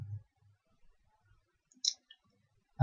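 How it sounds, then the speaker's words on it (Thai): A computer mouse clicks a few times while modelling in SolidWorks, with sparse, sharp, close clicks separated by near silence and a heavier thump at the very end. "คลิกที่เส้นนี้นะครับ"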